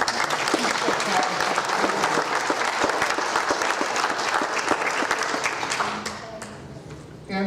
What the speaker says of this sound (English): So please, just a round of applause for Cassidy.